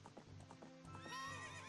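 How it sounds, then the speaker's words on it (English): Horse hooves in a Legend of Zelda video game: a steady run of clip-clop hoofbeats, then a loud whinny from the horse near the end. "And I always like to turn my horse around too"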